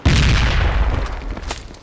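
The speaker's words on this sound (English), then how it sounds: "That sounded like a frag." A frag grenade explodes in the Project Reality military shooter, a single loud, close boom with a heavy low-end burst that rumbles and decays over about a second.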